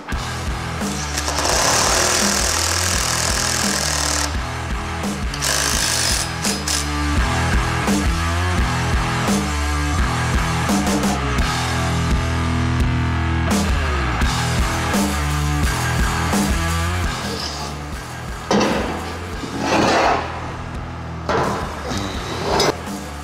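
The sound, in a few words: impact drill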